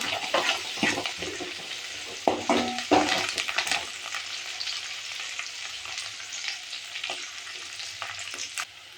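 Onion, curry leaves and a dried red chilli hit hot oil with mustard seeds, crackling and frying loudly at first with stirring scrapes, then settling into a softer steady sizzle, close up and without speech.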